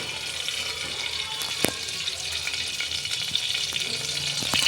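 Oil heating in a pressure cooker for tempering guar (cluster bean) vegetables, giving a steady close crackling sizzle throughout with one sharp clink partway through; no voices.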